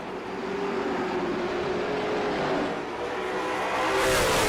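Late model stock cars racing at Langley Speedway, engines droning loud and steady as the pack circles, with a rising whine of a car swelling nearer toward the end.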